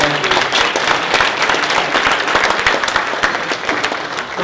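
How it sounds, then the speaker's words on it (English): Dense applause from a dinner crowd at a charity gala, many hands clapping steadily and loudly throughout, with faint murmurs mixed in. "Big round of applause for all of our sponsors."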